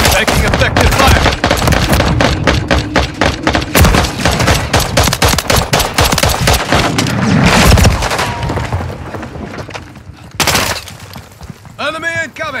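Rapid bursts of automatic gunfire and explosions fill a Call of Duty deathmatch, loud and dense, with a brief lull near the end and a voice-like sweep at the close.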